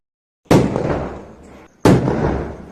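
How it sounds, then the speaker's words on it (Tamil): Two loud, close firecracker bursts go off during Diwali celebrations, each a sharp bang followed by a long, fading rumble, about a second apart, with no talk. "இன்னும் வெடிபட்டு முடியலையே"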